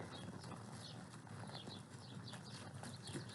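Horses walking in a riding arena at a ranch, their hooves making soft, irregular clip-clop steps under a steady background hiss, fairly faint and distant, with no talking.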